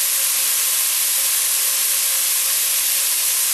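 A pot of crayfish bisque simmers and hisses steadily, a loud, continuous sizzling wash of noise heard close with no talking.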